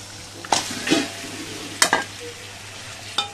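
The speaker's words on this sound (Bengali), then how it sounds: "মাংসগুলো দিয়ে ভালো করে কষিয়ে নিব।" Duck meat sautéed in a pot for biryani after yogurt is added, a soft steady sizzle with a few sharp scrapes of a spoon against the pan.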